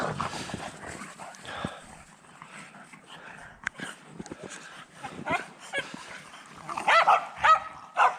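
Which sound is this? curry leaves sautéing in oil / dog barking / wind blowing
dog barking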